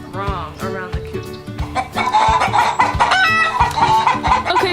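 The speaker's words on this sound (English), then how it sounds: "right now the chickens are making this noise because one of them just laid an egg" A flock of chickens in a coop clucking and squawking excitedly after a hen lays an egg, overlapping calls rising in intensity, with a rooster-like cry near the start and steady noisy barnyard background.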